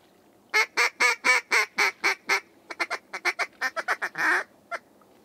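A flock of big ducks calls in a rapid series of loud, harsh honking quacks, about sixteen in a row, close by, with no talking, during a duck hunt on Colorado's Front Range.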